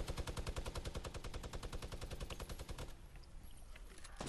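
Rapid automatic gunfire in Fortnite: a dense, evenly spaced volley of loud shots for about three seconds, then it stops abruptly and only faint game background noise remains.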